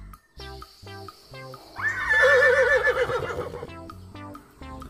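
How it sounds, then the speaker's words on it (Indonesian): A brown horse lets out a loud, close whinny that rises and wavers for about two seconds mid-clip, set among other farm-animal noises in a toy-style animal sequence, with no talking. "ini ada kuda"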